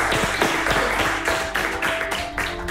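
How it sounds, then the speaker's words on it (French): Applause for a contestant on a televised pastry competition, a short burst of close, loud clapping from a small studio group, uneven and punchy for under three seconds. "On peut vous applaudir."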